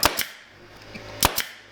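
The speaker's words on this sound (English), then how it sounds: "put a staple in each stripe" A staple gun fires into striped fabric on a dining chair seat being reupholstered, two quick sharp snaps close together, a pause, then another pair of snaps, close and crisp in a quiet room.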